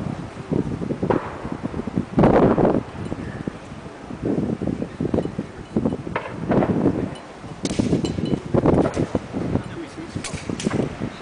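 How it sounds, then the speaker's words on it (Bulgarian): Gusty wind buffets the microphone in heavy rumbling bursts, loud and close, with a voice talking underneath, at a 2010 European field target shooting championship at Weston Park. "Вятъра е направо ужасен."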